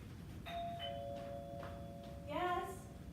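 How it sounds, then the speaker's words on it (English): A doorbell chimes indoors in two clear ding-dong tones, with a quieter bell tone between them and a faint voice murmuring in the background. "Someone's ringing my doorbell."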